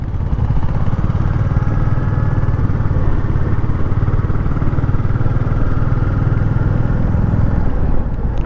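A motorcycle engine drones steadily at 40–50 speed on a smooth mountain road from Laitlum to Sohra, with constant low rumble and wind buffeting, close and loud, no speech.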